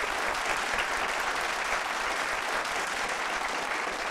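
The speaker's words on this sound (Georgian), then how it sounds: "აპლოდისმენტები." A studio audience at a televised quiz show breaks into steady, sustained applause, a dense wash of clapping lasting several seconds with no voices over it.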